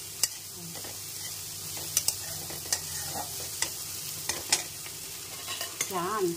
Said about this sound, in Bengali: 5 মিনিট হয়ে গেল বরবটি ভাজা।